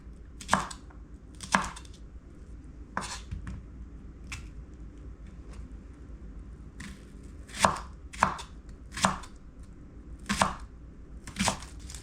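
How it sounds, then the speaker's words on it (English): A knife chops onion on a cutting board for a pineapple beef stir fry, about a dozen crisp, close cuts in uneven bursts, some in quick pairs, with quiet pauses between. "I'm gonna cut the slice like this."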